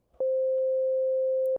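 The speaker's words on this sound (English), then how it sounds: "that's a sine wave because that's the waveform I selected" A Sylenth synthesizer oscillator plays a pure sine wave tone, a single loud, steady note held for about 1.4 seconds with clean starts and stops.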